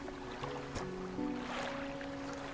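A boat engine in the fishing game Dredge hums steadily with tonal drones over watery ambience, a brief knock near the start, no talk.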